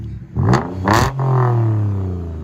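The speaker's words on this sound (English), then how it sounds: "That sounds so awesome, bro. Lexus GS 350, DYNOMAX bullets, and muffler delete." A 2016 Lexus GS 350 V6 F Sport with true dual exhaust, Dynomax race bullets and muffler delete gives two sharp throttle blips, then a loud sustained rev that eases into a deep, rumbling idle close by.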